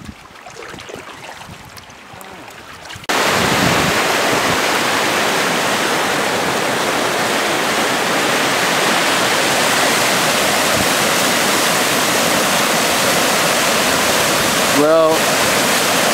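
River rapids on the French River's old Voyageur Channel roar as a loud, steady rush of whitewater, beginning abruptly after a quieter opening with a brief spoken word.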